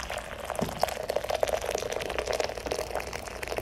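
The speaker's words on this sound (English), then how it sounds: "So first, boiling water." Hot water pouring steadily into a vessel, a continuous bubbling, splashing rush with faint rattles.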